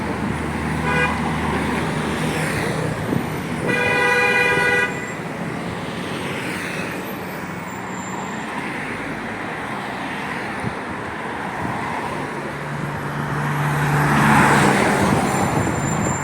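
Cars and buses pass along a busy Jerusalem street, a steady roadway roar with a short horn toot, a brief tonal blast and a louder swell as a vehicle goes by near the end.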